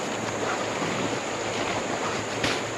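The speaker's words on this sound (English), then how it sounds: "Yeah, I hear it sloshing around." Water sloshing and washing around inside a covered raft, a steady broadband wash with gusty, surf-like texture and a brief louder surge near the end, close and continuous with no talking.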